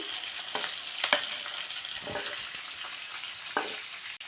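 Chopped onion and green chillies frying in a pan for leftover chapati upma, a soft steady sizzle broken by a few clinks and stirring scrapes, close and moderate.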